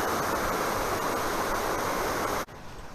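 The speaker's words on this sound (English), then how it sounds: "the result of that is a lot of water flowing, which is pretty cool to us" Heavy flow of water rushing through a stream near dams at Greenwood Furnace State Park after downpours, a loud steady roar that cuts off abruptly near the end, leaving quieter rushing.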